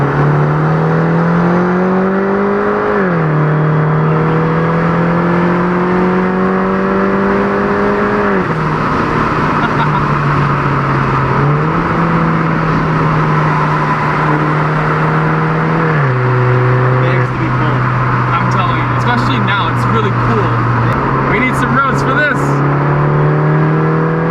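A Mini Cooper S R56 engine revs hard and close in second gear, its pitch climbing and dropping back repeatedly as the car accelerates through steady pulls.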